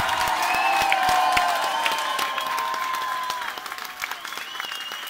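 Audience applause and cheering at a rock concert at House of Rock, a dense wash of clapping with scattered whoops that holds steady and then slowly thins out, with no music playing.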